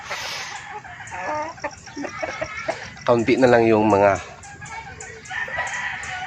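Backyard chickens cluck around a feeding area, with one rooster crowing loudly and close by partway through, while someone talks over the birds.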